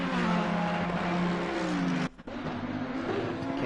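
Engines of two green Ferrari race cars running close together on a track at Hungary in a racing game, a loud steady roar with shifting pitch that cuts out briefly midway before resuming.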